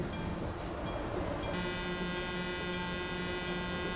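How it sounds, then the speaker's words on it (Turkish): A train nearing a level crossing, heard from a stopped DAF truck on a Calais–Duisburg route: a steady close rumble of rolling rail cars with tonal horn or bell lines running throughout, and no talk. "Hadi tren geliyor. Tren geliyor yürü."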